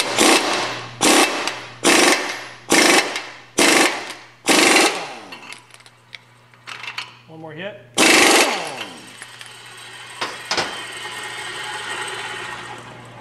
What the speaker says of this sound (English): a half-inch drive impact, and that works the best